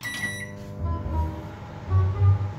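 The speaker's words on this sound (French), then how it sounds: "Mettre 2 minutes au micro-ondes." A microwave oven running, giving a low, steady hum that swells in pulsing bursts, with a short high beep-like tone right at the start.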